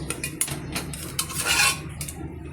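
A spoon scrapes and clinks against a bowl and dishes as chutney is served, a series of sharp close metallic taps and scrapes with no talking.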